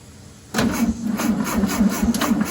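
A 1967 VW Beetle, parked for over 20 years, cranks over with the clutch in: a sudden start into a steady whirring starter drone with rhythmic pulses of the engine turning, loud and close without firing.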